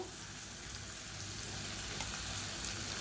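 Soft, steady sizzling of vegetables and green chillies sautéing in a pan, a continuous crackling hiss with faint pops and no talking.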